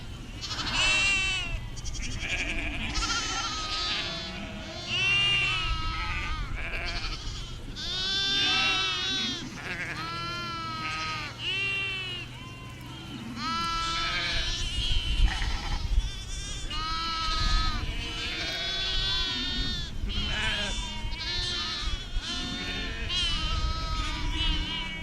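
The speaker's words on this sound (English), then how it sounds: "Boy, it seems like we got a lot of sheep again." A large flock of sheep bleating constantly in a grazing pasture, many overlapping voices near and far, loud and continuous with a low rumble of movement underneath.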